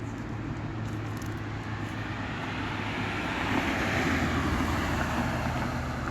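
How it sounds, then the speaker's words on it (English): Strong wind roars steadily across an open outdoor spot at a camp, a continuous broadband rush that swells louder in the second half, with no voices over it. "this wind ain't helping out"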